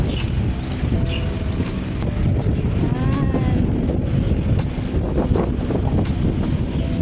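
Gusty wind rumbles against the microphone throughout, with faint tones drifting in the background.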